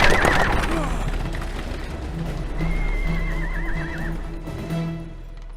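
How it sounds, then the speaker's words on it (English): Runaway horses whinny loudly and shrilly, with repeated neighs rising and warbling over a steady rumble of galloping hooves, set against a busy, dramatic background. "Runaway horses!"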